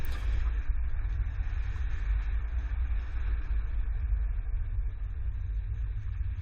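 A car with a Hollywood Racks Destination 4-bike rack runs slaloms on a test course, giving a steady low engine and road rumble throughout with no clear breaks.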